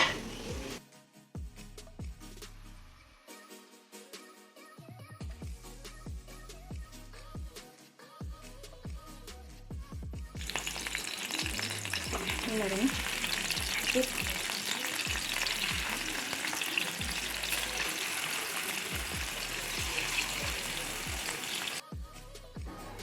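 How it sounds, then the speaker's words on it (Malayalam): Fish sizzles as it fries in a pan, with stirring and scraping at first, then a dense, louder continuous crackling hiss that fills the second half, heard close with no talk. "മീൻ വറക്കാം. എല്ലാം പരട്ടി വെച്ചിട്ടുണ്ട്, വറുത്തെടുക്കാം."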